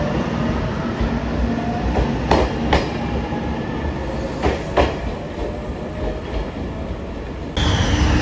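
A yellow JR Shikoku Anpanman limited express train, the Nanpu No. 6 bound for Okayama, rumbles steadily past at close range, with loud continuous wheel and engine noise and a few sharp clicks as it goes by.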